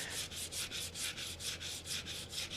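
Close, steady strokes of fine sandpaper worked by hand over painted Lambretta scooter bodywork, a soft rhythmic rasp repeating about five times a second with no talk.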